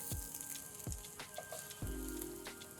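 Slit green chilli, sliced garlic and onion chunks sizzle quietly in a pan of potatoes for Korean braised potatoes, with a few sharp tossing knocks over the steady frying hiss, and no talking.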